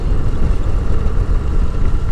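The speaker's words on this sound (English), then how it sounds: "Like just taking in the sound of the motorcycle" Motorcycle engine droning steadily while riding along a scenic coastal highway near Kundapura, with continuous low rumble and wind rush, close and fairly loud, no voices.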